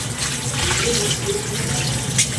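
A kitchen tap runs steadily into a sink while dishes are washed, a continuous close splashing rush with small clinks and drips.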